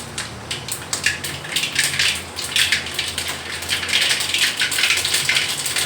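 Mustard seeds and urad dal fry in hot oil in a pan, crackling and popping in dense, irregular bursts close by. The bursts grow busier toward the end, with no talk over them.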